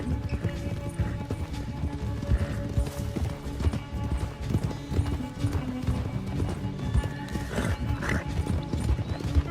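Hooves clip-clop in a fast, steady gallop against a busy soundtrack in the video game Red Dead Redemption 2, with a horse neighing briefly among the rhythmic beats.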